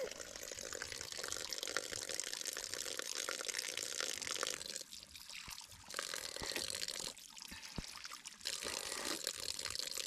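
Steady rushing pour of water, continuous and close, with a few brief dips in the flow.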